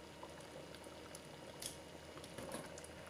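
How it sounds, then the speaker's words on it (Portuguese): Tripe stew with white beans boiling in a covered pot, a dense, continuous bubbling and simmering hiss at a low, even level, with a few faint clinks and pops. "vou tampar a panela e deixar ferver, até ficar mais consistente e cheio de sabor"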